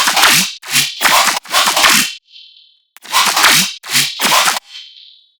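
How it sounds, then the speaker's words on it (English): Heavy riddim dubstep metallic bass layers with a delay effect, loud gritty bursts in a choppy stuttering rhythm, each phrase trailing off into a thin echoing delay tail before the pattern repeats. "So together with the metallic bass, they sound like this."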